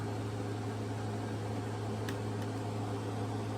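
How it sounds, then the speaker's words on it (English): An electronic warp-drive effect from a Star Trek Insurrection U.S.S. Enterprise collectible toy gives a steady, unbroken hum with a hissing whoosh, played close and continuous for a few seconds with no voices. "Warp sound, and both the sublight engines and warp nacelles will light up."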